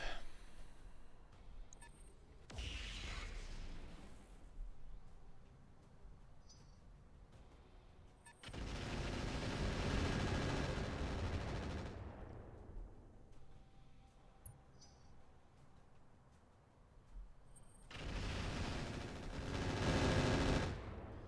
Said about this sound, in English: Enemies sat on hills shooting down at us forever.